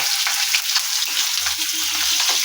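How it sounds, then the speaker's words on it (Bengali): Black cumin and five-spice seeds hit a hot wok and fry in a loud, crackling sizzle, with a few faint clinks and stirring sounds underneath. It is close and continuous, with no voices. "এই কড়াতে আমি দিয়ে দিলাম কালো জিরে আর পাঁচফোড়ন"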